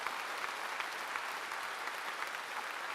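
A congregation at a Sunday afternoon church service gives God glory with steady, continuous applause, a dense even patter of many hands with no voices over it.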